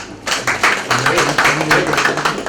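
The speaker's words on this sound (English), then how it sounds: "clap, yeah" A group claps for a person, a dense run of overlapping hand claps lasting a couple of seconds, close and fairly loud, with voices mixed in.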